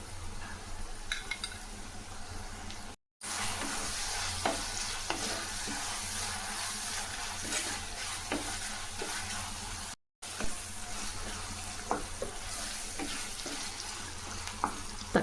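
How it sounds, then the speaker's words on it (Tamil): Ginger garlic paste frying in a pan with mint leaves while being stirred, a steady close sizzle with occasional scrapes and clinks of the utensil against the pan, broken by two brief silent gaps. "நல்லா வதக்கிக்கலாம் இஞ்சி பூண்டு பேஸ்ட்டு"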